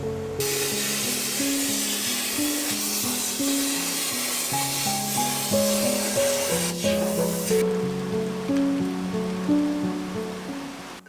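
A plasma cutter works on a steel boat hull, producing a loud, steady hiss that runs for several seconds and then cuts out, with background music playing throughout.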